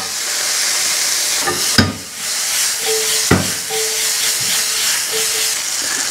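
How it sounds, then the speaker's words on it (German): Garlic sizzles in olive oil in a hot pan with a steady close hiss, broken by a couple of sharp clatters as it is stirred or the pan is moved. No one speaks. "Und den Knoblauch dann in der Pfanne ein bisschen anrösten."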